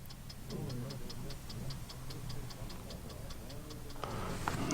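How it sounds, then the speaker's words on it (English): Steady, evenly spaced clock ticks inside a car at a car meet run throughout, crisp and close, over a low background rumble and faint murmuring voices. "you can hear the ticking of the clock"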